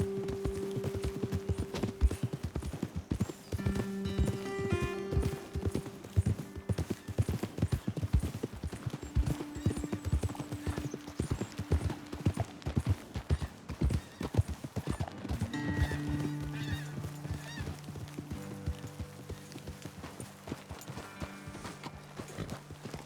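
Horses trotting over ground in Red Dead Redemption 2, a steady close clip-clop of hooves with occasional whinnies and snorts, with game music and ambience underneath.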